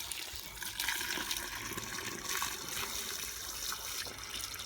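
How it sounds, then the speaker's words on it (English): Water pours steadily and splashes from a tap as garden bottles are filled while tomatoes are being potted, a continuous close rushing trickle with no voices. "I'll just fill these bottles up now."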